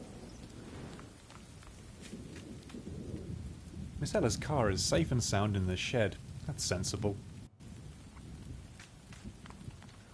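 Steady rain with a low storm rumble runs throughout a rural audio-drama scene at a shed, continuous and moderately loud beneath two voices talking, briefly cutting out near the end.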